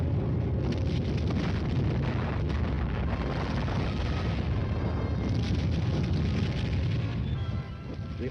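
Artillery fire lays down a barrage, a dense, continuous low rumble of overlapping blasts and booms that rolls on without pause.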